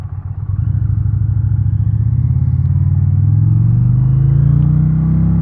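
A 2022 Indian Challenger Dark Horse motorcycle rides in sport mode, its V-twin engine rumbling loud and close as it pulls away and steadily gains pitch while accelerating, with no talk over it.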